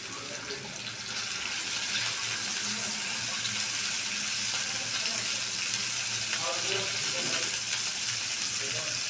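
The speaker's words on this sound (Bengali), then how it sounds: "এখন আমি একটু মাংসটি ভেজে নিব আগে।" Meat fries in a pan with half-fried onions and bay leaves, making a dense, continuous sizzle that holds at an even level throughout, close and loud, with light stirring.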